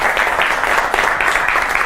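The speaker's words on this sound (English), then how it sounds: "Guys, give Melissa a round of applause." Brief, loud round of clapping from a theater audience at a live magic show as a volunteer is called on stage, dense and continuous throughout.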